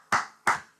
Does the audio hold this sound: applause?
yes